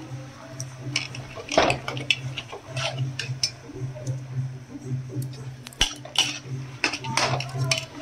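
Boiled potato filling for aloo kachori is stirred in a pan, a spoon scraping and clinking against metal in repeated close strokes amid low kitchen hum.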